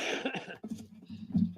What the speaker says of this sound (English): I hate when people cough on camera.